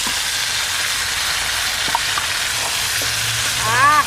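Chicken pieces for village-style Bihari chicken hit hot oil in a pan, giving a loud, steady sizzle throughout with a few small stirring clicks and bubbling pops.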